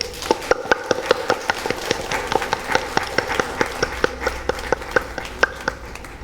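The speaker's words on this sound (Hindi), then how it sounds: "हम सब एक बार जोर से तालियां बजाएंगे।" A congregation claps loudly in a steady, rhythmic beat at a Holy Mass for the feast of St. Monica. The crisp, evenly paced claps continue throughout.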